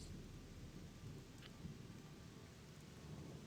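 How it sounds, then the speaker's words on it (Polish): Video game rainstorm with steady hissing rain and low rumbling thunder, a continuous, fairly faint wash of sound with no voices. "jak deszczyk pada"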